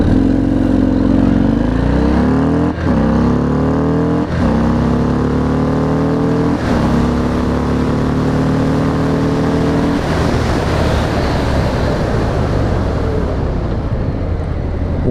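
A 2019 Harley-Davidson FXDR motorcycle accelerating hard, its V-twin rising in pitch through several gear changes with brief dips between shifts, loud and close, then settling into a steady roaring drone.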